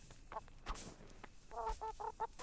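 A chicken in the medieval video game Kingdom Come: Deliverance clucks in short bursts, a quick pair followed by a rapid run of four or five clucks, fairly close over quiet ambience with soft taps.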